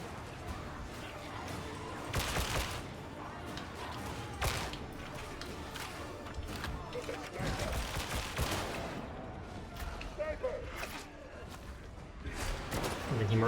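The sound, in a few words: gunfire from the video game Warhammer: Darktide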